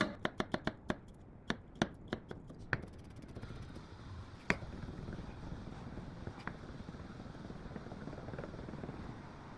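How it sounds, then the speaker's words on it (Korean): A knife minces garlic on a cutting board, opening with a quick burst of sharp close chops that then thin into a soft continuous scraping with occasional isolated taps. "마늘은 좀 다져놔야 되겠죠?"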